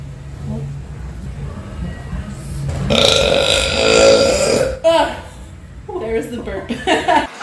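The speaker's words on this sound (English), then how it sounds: "There's the burp." A long, loud, drawn-out burp rumbles for nearly two seconds close to the microphone, then chuckling and laughter follow, with a person talking before and after.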